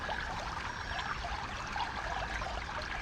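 Gently flowing water trickles and babbles in a continuous, soft, close stream with no voices.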